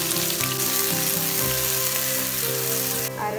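Cumin seeds and chopped onion fry in hot coconut oil for dal tadka, a steady close sizzle running under tonal background music.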